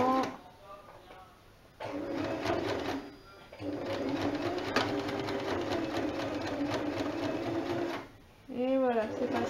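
A sewing machine with a hemming foot stitches a trouser waistband, running in two steady whirring, rattling stretches with brief pauses between them, while someone talks over it.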